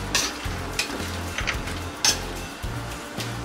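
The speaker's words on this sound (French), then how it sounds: "vous allez donner un tour pour mélanger un peu l'ensemble" Beans and garlic get stirred in a pot over a steady low sizzle, with a few scraping sweeps and a couple of sharp utensil clinks against the metal, close and without speech.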